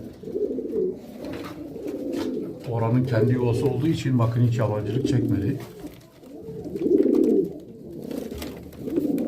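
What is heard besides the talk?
homing pigeons cooing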